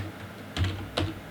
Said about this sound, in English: we're going to type in text